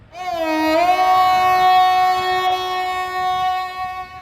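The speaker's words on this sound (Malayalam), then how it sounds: "നമുക്ക് പോകേണ്ട പൂർണ്ണ എക്സ്പ്രസ് ആണ് പ്ലാറ്റ്ഫോം നമ്പർ 4 എത്തിക്കൊണ്ടിരിക്കുന്നത്." The Purna Express pulls into platform 4 at Ernakulam Junction railway station, sounding a loud, sustained, steady horn blast that holds for several seconds close by, with no speech.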